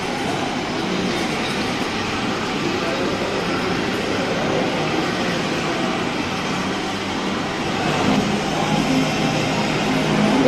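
Children's amusement train ride running, a steady rumbling, rolling rail-like drone with faint clatter throughout, close and continuous.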